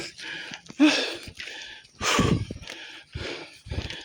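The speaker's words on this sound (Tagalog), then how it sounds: "Hingal na hingal." Rapid, heavy breathing in quick bursts after a climb up a mountain, close and loud, with short gasps and puffs between, like someone out of breath.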